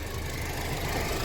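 A 2020 Honda Civic engine runs and is revved during air-conditioning evaporator work, a loud, steady mechanical drone close up with no talking.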